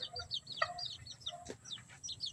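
Bantam chicken that has escaped its cage, clucking in short repeated bursts alongside chirping birds, near and fairly quiet, no talk.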